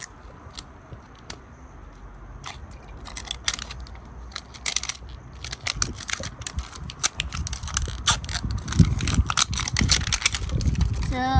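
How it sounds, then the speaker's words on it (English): Plastic crinkling and rustling as a toy blind bag is unzipped and pulled open, with scattered close handling clicks growing busier toward the end. "So here's the zipper. I'm going to open it."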